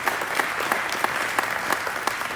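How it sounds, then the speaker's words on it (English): A round of applause from the audience at an annual meeting, moderately loud, steady clapping that fills the whole short stretch and doesn't fade. "I think they need a round of applause."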